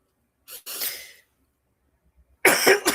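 Two short coughs close up, a pause of near silence, then a longer harsh cough burst absorbing a sneeze.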